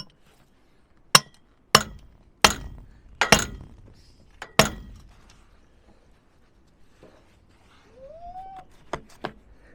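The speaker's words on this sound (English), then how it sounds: "I'm gonna go ahead and hammer that in" Sharp, loud hammer strikes driving a peg into the ground at a concrete post-setting job, about half a dozen irregular blows with short pauses, followed by a few lighter knocks.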